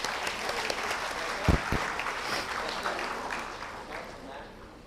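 Audience applause at a plenary session of ICSE 2023 during a memento presentation, a steady wash of clapping across the room, moderately loud throughout, with a couple of sharper low thumps near the middle.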